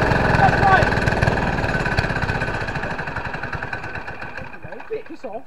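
A go-kart engine running on diesel made from plastic chugs loudly and then slows and sputters toward stopping, while people talk excitedly over it.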